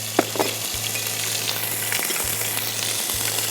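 Cumin and ginger sizzle in hot oil in a pan, a loud, dense, continuous frying hiss with a few faint stirring taps near the start, heard up close with no voice.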